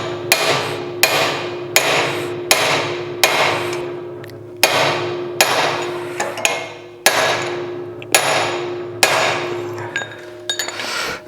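A hand hammer strikes metal in a steady series of sharp, ringing blows, about one per second, loud and close with no talk.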